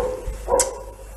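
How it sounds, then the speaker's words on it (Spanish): A dog barks once at night, a single short yelp rising out of a steady low background hum in an indoor stage setting. "¿Cómo ladra el perro esta noche?"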